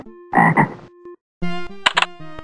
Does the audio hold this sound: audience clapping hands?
no